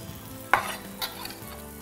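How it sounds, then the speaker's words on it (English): Chopped leeks dropped into hot olive oil in a pan, giving a sharp burst of sizzle followed by a quieter crackle and a small clatter, close and alone. "we're going to put in our olive oil. And then down with the leeks."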